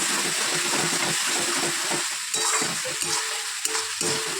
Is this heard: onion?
yes